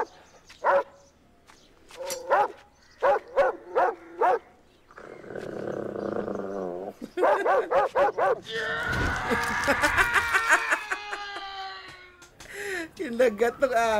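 A dog yips and barks in short bursts amid a comedic scene, with excited voices talking and reacting around it, followed by a long noisy scuffle.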